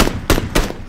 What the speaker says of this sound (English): Vulona heard the gunshots and is about to check out on the other player.